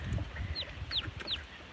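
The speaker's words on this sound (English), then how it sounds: "You guys want the food and Mama Hen doesn't want you to have it, huh" Farmyard chickens on a rural South Dakota farm, with three distinct rising clucks or squawks from a fussing hen spaced evenly over low background scuffling, fairly close but not loud.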